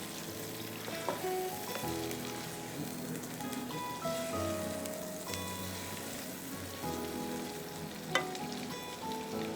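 Chicken frying in a karahi, a steady broadband sizzle running the full length with occasional sharper crackles and a brief pop near the end, no talk.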